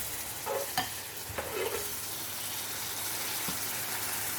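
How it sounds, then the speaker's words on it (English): Steady sizzling of vegetables frying in a small pot for stew, with a few scraping stirs early on, close and continuous without any talking. "So I'm just going to be frying."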